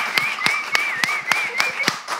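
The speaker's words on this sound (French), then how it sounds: "Mais applaudissez pour moi." Studio audience clapping on a live French talk show, a string of sharp, evenly spaced claps over a steady background tone, fairly close and moderate in level, with no voices.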